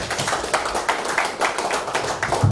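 Applause from a congregation at a church presbytery council meeting, a steady stretch of clapping filling the room, with faint voices underneath.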